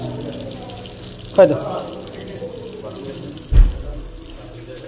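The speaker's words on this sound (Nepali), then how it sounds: "पानी अटोमेटिक आउँदो रहेछ त कहाँ खै यो त यो धारो चाहिँ बिग्रिया रहेछ" A faulty automatic tap at a wedding party venue in Dubai runs water in a steady hiss, with two brief louder splashes and a few soft words spoken nearby.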